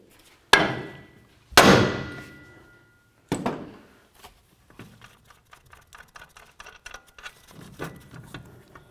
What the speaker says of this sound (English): we're gonna give this a couple loving bonks to separate the two